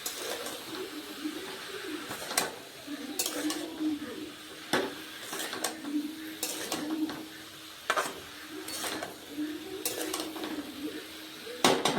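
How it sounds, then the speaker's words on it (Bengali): Potatoes and ash gourd are sautéed in a pan, and a spatula scrapes and clanks against the metal in irregular bursts every second or so. A pigeon coos softly and steadily in the background. "এবার এটাকে আমি ভালো করে কষিয়ে নেব।"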